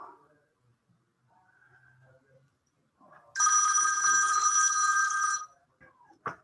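A telephone rings once, loud and close, for about two seconds in a quiet room, with faint talk before it and a short sound after.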